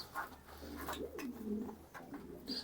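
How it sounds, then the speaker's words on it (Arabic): Faint, low cooing from Ward Kuwait pigeons inside a loft, a couple of soft rolling calls over a quiet background hum with small bumps and rustles nearby. "ده الحمام ورد الكويت يا جماعه"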